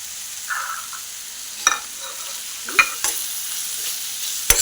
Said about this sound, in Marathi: परतवून घेऊया मसाल्याचा कच्चेपणा जाईपर्यंत आपण एक दोन मिनटं परतवून घेऊया